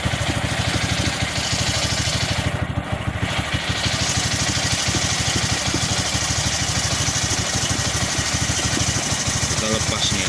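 A Honda Supra X125 Fi motorcycle engine idles close by with a steady, even pulsing putter that holds loud and unchanged for about ten seconds.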